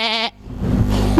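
A man imitates a goat's bleat with a loud, wavering harmonic cry that lasts a quarter second, followed by a broadband rustle and murmur.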